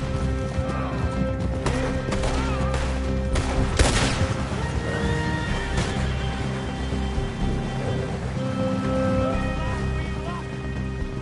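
Scattered gunshots in Red Dead Redemption 2, a few sharp reports over a dense, continuous game soundscape with hoofbeats, horse sounds and rumbling, fairly loud throughout with no clear speech.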